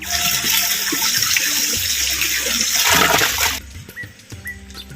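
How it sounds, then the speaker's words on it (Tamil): Kurinjan spinach leaves being rinsed by hand in water, with a steady splashing, running-water wash that stops abruptly near the end, leaving a few faint drips and clinks. "குறிஞ்சான் கீரை ஒரு கைப்பிடி அளவு நல்லா ஆஞ்சிக்கிட்டோம் தண்ணியில் வந்து அலசிக்குவோம்"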